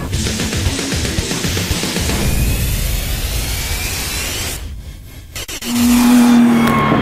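A Lotus Cup R race car drives on track with a loud, sustained engine roar and rushing wind noise. The sound drops briefly to a near gap, then a strong engine note surges back in, close and with no voices.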